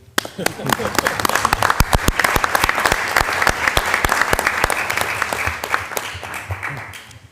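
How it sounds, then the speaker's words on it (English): Applause at a regular meeting of the Permanent Council, a loud room of people clapping steadily with distinct sharp claps standing out, fading away near the end. "let's applaud again"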